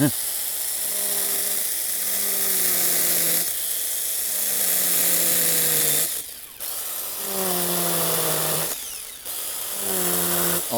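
A small mini chainsaw buzzes in repeated loud bursts as it cuts into a soft wood pole studded with nails and staples, the motor pitch dropping under load then rising between cuts.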